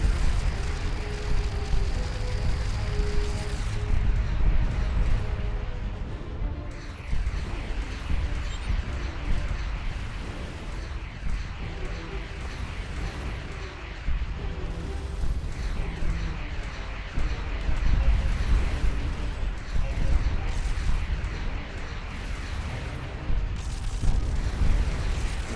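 Missile explosions in the space game Starcom Nexus: a dense, rumbling barrage of booms and bursts, with heavy low-end impacts layered over a continuous droning bed. Loud repeated blasts come in waves, with no talk.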